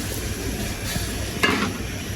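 Liquid poured into a pan of sizzling spicy red chicken and potato curry, a steady close fry hiss with a brief louder splash and burst of sizzle partway through, no talking.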